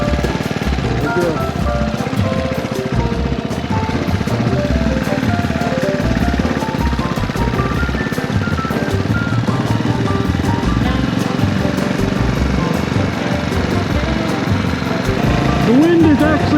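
A motorcycle engine drones steadily throughout with wind rumble, heard from the rider's position while a person talks over it.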